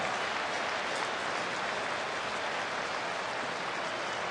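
Baseball crowd at a Nationals–Phillies game in Philadelphia, reacting to a catch by the tarp with a steady, dense wash of applause and cheering that holds at a constant level throughout.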